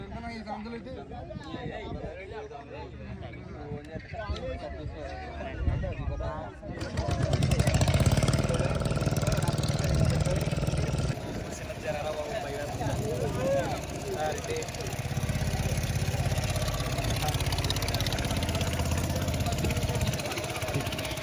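A boat's engine drones on an open-water ride to an island near Yanam, a steady mid-pitched hum that grows louder partway through and runs under people talking.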